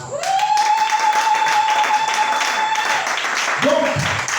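A congregation at a French-language worship service claps and cheers together in a loud, steady burst, with a long sustained shouted note carried over the applause before it briefly dips and swells again.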